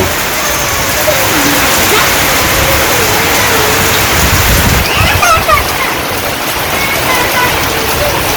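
Steady rain pours over a village in Bangladesh, a dense unbroken hiss lasting throughout, with faint, indistinct voice-like sounds now and then beneath the downpour.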